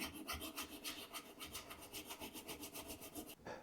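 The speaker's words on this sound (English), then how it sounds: "we're just gonna take our chisel and just tilt it up a little bit on these flats and just do a few strokes" A Harbor Freight carving chisel drawn in quick repeated strokes across a sharpening plate, a soft rhythmic rasping rub, close and fairly quiet.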